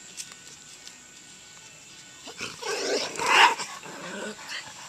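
Dogs growling and yipping as they meet a rescued puppy, quiet at first and then a louder burst of snarling and rustling in the middle, with people murmuring nearby.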